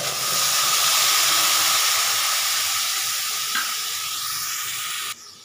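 A ground spice paste with kasuri methi hisses and sizzles in a pan for Rajasthani besan gatte curry. The hiss is loud and steady and fades slightly before cutting off sharply near the end.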